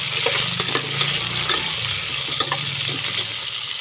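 Bottle gourd frying in ghee in a pan, with a steady close sizzle and crackle alongside intermittent stirring scrapes throughout.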